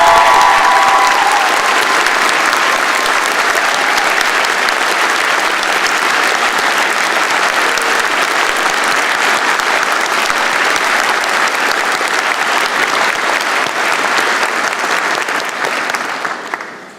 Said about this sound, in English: Graduates, a round of applause.